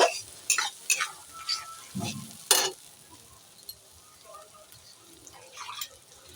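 A ground paste of ripe red chilies, ginger and garlic fries in a pan for a fish head curry, with a few sharp clanks from stirring at the start over a soft, steady sizzle.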